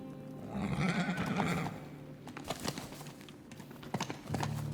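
In the video game Teardown, a horse gives a short whinny near the start, followed by scattered clicks, light clattering and soft bumps from the game environment, at modest volume with no talking.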